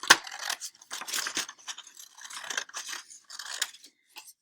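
Scissors snipping out a paper triangle shape, a quiet series of short, close crisp cuts with small gaps between them.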